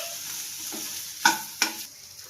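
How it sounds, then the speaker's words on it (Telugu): Curry frying in a pan with salt and turmeric hisses in a soft, steady sizzle. Two sharper spoon clinks or scrapes stand out partway through. No one speaks. "వెయిట్ చేయండి ఫ్రెండ్స్, ఇది ఆటోమేటిక్ గా ఫ్రై అవుతాయి"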